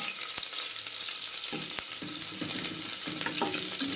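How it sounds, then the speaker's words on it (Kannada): A spice tempering with onions sizzles gently in oil over a low flame, a steady close hiss with a few sharp pops and light stirring clinks, no voices. "ಒಗ್ಗರಣೆ ಹಾಕೋವಾಗ ಸ್ವಲ್ಪ ಲೋ ಫ್ಲೇಮಲ್ಲೇ ಇಟ್ಕೊಂಡು ಒಗ್ಗರಣೆ ಹಾಕ್ಕೊಳ್ಳಿ."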